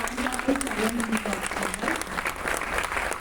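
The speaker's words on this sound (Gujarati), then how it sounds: "તાળી બધા પાડી દઈએ" An indoor audience at a training session claps in a dense, sustained round of applause, while a voice speaks over the first part of it.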